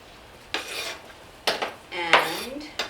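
Sliced onions being dropped into a metal soup pot for miso soup with wakame, heard as three or four short clattering bursts of kitchenware with a scrape, close and moderately loud in a quiet room.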